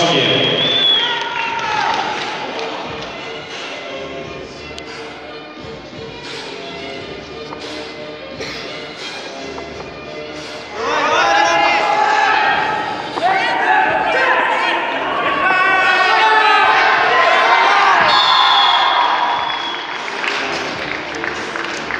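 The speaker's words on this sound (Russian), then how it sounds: "Поддерживаем аплодисментами спортсменов, потому что интрига на помосте" A crowd at a wrestling tournament, the R.M. Dmitriev Memorial, applauding the wrestlers in a long, loud, continuous wash of clapping that swells midway, with a commentator speaking over it.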